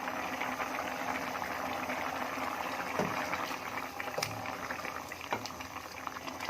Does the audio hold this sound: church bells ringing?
no